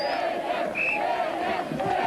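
A stadium crowd roars steadily at the start of a loading race at the 1998 Atlantic Giants strongman event, with a loud, continuous wash of cheering and a brief whistle rising above it.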